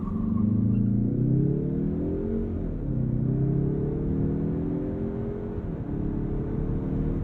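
A 2023 Mazda3 Turbo Hatch accelerates hard from a standstill in a 0 to 60 run, its engine note heard from inside as a steady rising drone with two brief drops at gear changes.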